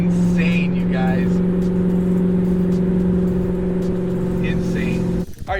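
A C7 Corvette V8 fitted with an AWE Track Edition axleback and X-pipe exhaust drones at a steady, loud cruise from inside the cabin, while occupants talk over the engine rumble.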